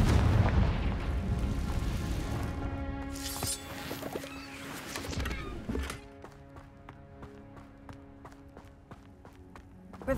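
Confringo fire spell explosions in the video game Hogwarts Legacy: a heavy boom opens, then crackling blasts and debris give way to rapid rhythmic clicking impacts and ringing tones, loud throughout.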